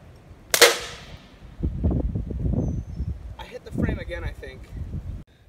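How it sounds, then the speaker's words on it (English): A gun fired with subsonic ammunition at a section of airplane body panel outdoors gives one sharp, loud report. Wind noise and someone talking follow. "I'm gonna have to take one more shot with the subsonic"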